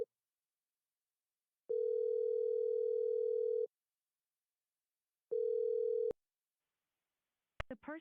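Steady telephone ringback tones sound while a call to a scammer is placed, two long flat beeps separated by silence, followed by a brief click and the start of a recorded voice.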